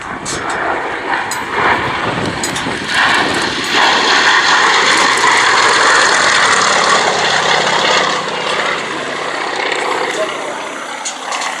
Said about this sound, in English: Yakovlev Yak-52.